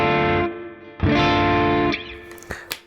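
A Fender Stratocaster electric guitar on its middle pickup rings out sustained chords while the tone knob is turned, strumming twice, then fading into a few scratchy muted strokes.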